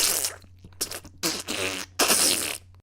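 A person imitates wet, sputtering diarrhea farts with their mouth, in several loud bursts of varying length separated by short pauses, close and alone.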